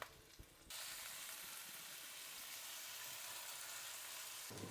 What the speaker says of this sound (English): So when the pan is ready, you can put the langoustines on.